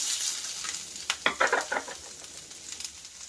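Onions and green chillies fry and get stirred in a pan, giving a soft steady sizzle with a brief cluster of scraping spatula strokes in the middle. No voices are heard.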